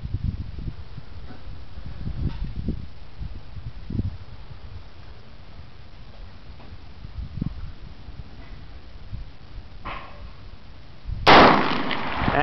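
A single sharp report from an AR-15 rifle fired from a standing position, loud and abrupt near the end after quiet outdoor background rumble and faint knocks.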